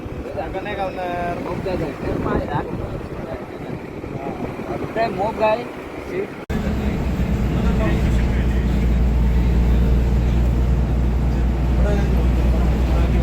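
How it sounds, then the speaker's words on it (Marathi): A city bus in Kuwait: talk over a low vehicle rumble in the first half, then a louder steady engine drone and road hum from inside the moving bus, close and continuous. "ही सिटी बस आहे."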